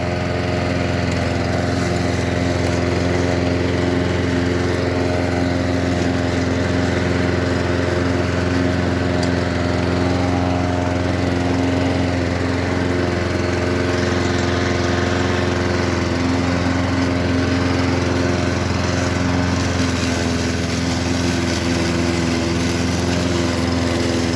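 An Einhell petrol lawn mower running at a steady, loud drone, its small engine humming continuously and close by with no pauses or talk.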